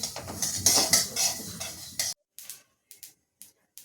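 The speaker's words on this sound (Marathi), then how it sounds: "तीळ पण छान भाजल्या गेली आहे मस्त चटचट आवाज यायला लागला आहे" Sesame seeds roasting in a kadai give a dense, close patter of crackles and scraping stirs for about two seconds, then thin out to a few sharp isolated pops separated by silence.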